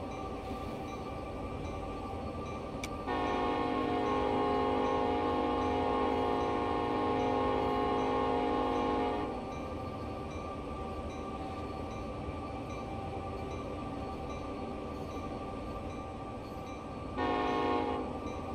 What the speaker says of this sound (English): Don't forget the honking procedure for the level crossing at the next signal